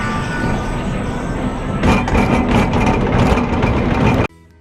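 The Ghostrider wooden roller coaster train at Knott's leaves the station with a loud, close rumble and clatter that builds after a quieter start, then cuts off abruptly.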